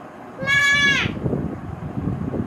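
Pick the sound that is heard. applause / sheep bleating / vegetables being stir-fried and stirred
sheep bleating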